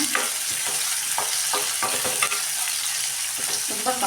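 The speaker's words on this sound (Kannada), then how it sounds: "ಒಂದು ಈರುಳ್ಳಿ ಕಟ್ ಮಾಡ್ಕೊಂಡಿದ್ದೆ ಈರುಳ್ಳಿ ಹಾಕ್ತಾಯಿದ್ದೀನಿ" Chopped onion frying in a pan while being stirred, a steady close sizzle broken by repeated scraping strokes of a utensil, with no talk over it.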